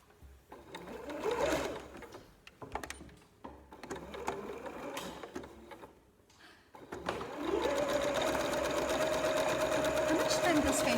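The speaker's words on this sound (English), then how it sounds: "must I sew the lace onto the fabric? Yes. You will technically only be sewing on top of the lace" A domestic sewing machine stitches lace onto cotton t-shirt fabric, running in short bursts and then a long steady whirring run near the end, with people talking over the early part.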